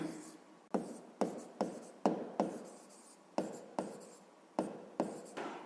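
A pen writes out the digits of a school multiplication sum, a series of about ten crisp, separate scratching strokes close up, each starting sharply and trailing off, with short pauses in between.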